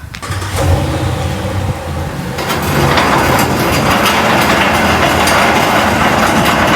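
A winch drags a 1932 Ford onto a trailer, giving a loud, steady mechanical grinding and rumble that grows denser and more constant partway through, with no talk.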